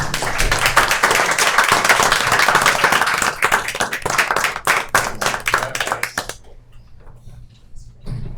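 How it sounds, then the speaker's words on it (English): Audience applause at a city council meeting, loud, close clapping from a room of people that thins into scattered individual claps before fading, with some talk underneath. "You all a round of applause?"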